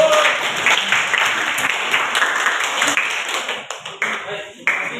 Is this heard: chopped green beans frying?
no